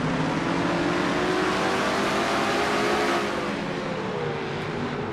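A Ford stock car engine at Martinsville in a sim racing game, heard from inside the number 21 car, revving hard and climbing in pitch, then easing off. The drone is loud and continuous, with faint tire noise beneath.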